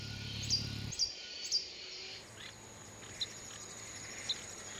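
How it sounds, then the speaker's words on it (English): An Ecuadorian long-billed hermit hummingbird chirps insistently in short, high, sharp notes. They repeat at irregular intervals over a faint steady background hum. "like the insistent chirping of this Ecuadorian long-billed hermit"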